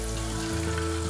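Kisu fish tempura in batter of tempura flour and cold water, frying in taihaku sesame oil, a close, steady bubbling sizzle that runs continuously for a brief moment.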